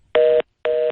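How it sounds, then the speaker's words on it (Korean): A dropped telephone call sounds two identical beeps of flat, steady tone, each about a quarter second long with a short gap between them, clear and with no voices. "전화 인터뷰 도중에 전화가 끊겼습니다. 갑자기 삐삐 소리가 나는데"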